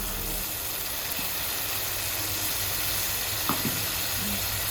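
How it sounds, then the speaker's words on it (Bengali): Water hits sizzling cooked-down masala in a pan for a chitol fish curry, producing a loud, steady hiss and spitting sizzle throughout with a few small pops and no voices. "এখন আমরা জল দিয়ে দিলাম।"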